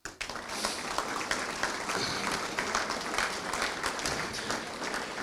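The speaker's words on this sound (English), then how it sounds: "a round of applause for everyone in here" An audience at a Terrebonne parish government presentation applauds in a steady round of clapping that lasts throughout, moderately loud and evenly sustained.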